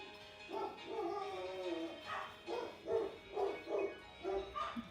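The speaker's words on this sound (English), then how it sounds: "my mail lady is putting mail in the box and they're having a fit." Dogs bark excitedly indoors at a mail carrier at the mailbox, a rapid run of loud repeated barks and yips that sounds close by, with no speech over it.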